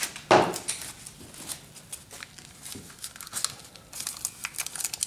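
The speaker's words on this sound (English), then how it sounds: "I like to take some painter's tape and just wrap the connector so it can't touch" Painter's tape crinkles and tears as it is wrapped around an H4-style headlight connector on a 1992-2002 Honda Civic, with a sharp rip near the start followed by scattered close crackling and rustling throughout.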